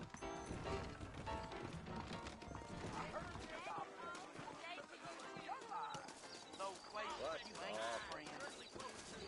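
Horses trot in the Western video game Red Dead Redemption, their steady hoof clip-clops running under music and in-game talking throughout.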